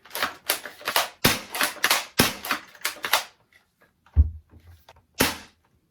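A three-BB airsoft shotgun is racked and fired in a fast series of sharp, close clacks and snaps, followed after a short pause by a dull thump and one last crisp shot.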